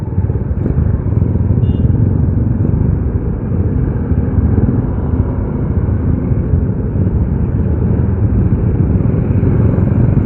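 A Yamaha Scorpio motorcycle riding on a road near Bogor, its engine a loud, continuous low rumble with steady wind and road noise and no speech.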